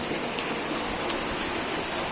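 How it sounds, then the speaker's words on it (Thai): Heavy rain pours steadily and loudly, a dense continuous hiss with no breaks, close by and with no talking over it. "ฝนตกนะครับ โอ้ตกใหญ่เลย"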